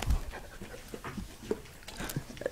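A dog pants steadily close by, quick rhythmic breaths repeating through the moment with a faint whimper-like edge, heard on its own without talk.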